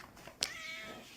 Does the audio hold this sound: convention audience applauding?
no